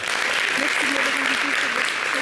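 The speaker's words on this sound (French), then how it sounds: "Merci de l'applaudir" Studio audience applause for a singer on a TV variety show, dense continuous clapping with a voice speaking over it.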